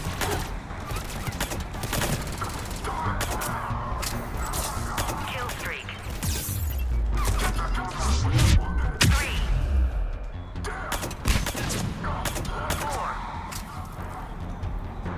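Gunfire in the Mass Effect 3 video game, including pistol shots: dense bursts of shots and impacts come in loud clusters with a heavy boom in the middle, and a voice talks in between.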